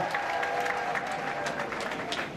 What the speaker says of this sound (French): acclame très fort le Seigneur Jésus-Christ de Nazareth